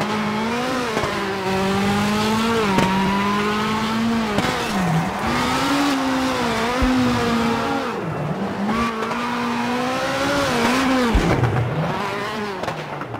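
A Citroën DS3 rally car in the WRC6 racing game revs hard and continuously, its engine note rising and dipping through gear changes with occasional tire noise, loud and close with no voices.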